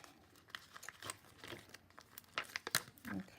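Holographic heat transfer vinyl sheet being peeled apart by hand, giving a run of crisp crinkling and tearing rustles that come in irregular bursts, close and fairly quiet, with no talking.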